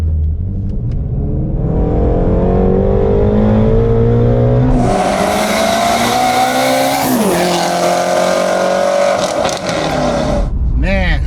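An 800 hp twin-turbo Shelby GT350 with 62 mm Hellion turbos running on 93 octane accelerates hard through the gears, its loud close engine roar climbing in pitch, a gear change near the middle, then lifting off at the end.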